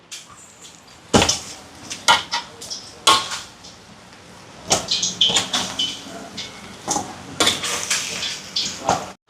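A pot of plantain curry lifted off the stove in a Sri Lankan home kitchen, with close metallic clanks, scrapes and knocks of cookware sounding in irregular sharp bursts throughout.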